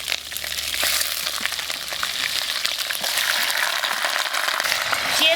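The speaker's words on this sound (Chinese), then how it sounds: "开始炒，用砂锅炖，加油，开始炒，油不要太多。" Chicken pieces stir-fried in oil inside a clay pot give off a steady, close sizzle with scattered sharp crackles and the scrape of stirring throughout.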